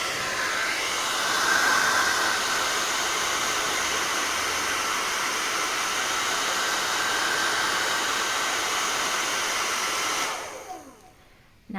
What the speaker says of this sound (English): now I'm using a hair dryer to erase it with heat